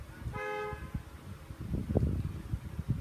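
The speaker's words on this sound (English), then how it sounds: "Yeah, excuse the car noise." A car horn sounds outside an open window, one short tonal toot near the start, followed by the rumble and swish of passing traffic in the street.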